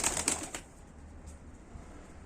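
A short burst of flapping wings from a pigeon taking off, lasting about half a second, then fading into quiet background noise.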